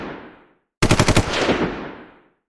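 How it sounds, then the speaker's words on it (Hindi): A machine gun fires a rapid burst of about eight close, loud shots in a war scene, followed by a decaying echo; a fading rumble precedes it. "मेजर शर्मा ने खुद मशीन गन संभाली और लगातार गोलियां बरसाने लगे।"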